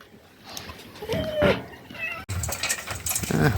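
A cat meows a few times, a rising, drawn-out cry close by, with faint clinks and household clatter around it.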